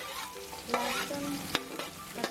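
Onion and garlic frying with cumin in ghee and oil in a kadhai, a soft steady sizzle with a few sharp spatula scrapes and taps, close but fairly quiet.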